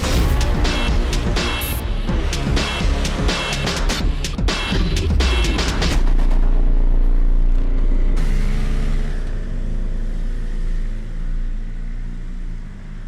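A high-revving BMW superbike engine screams through rapid gear changes on a test track near Munich, then settles into a lower drone with a steady rumble close by.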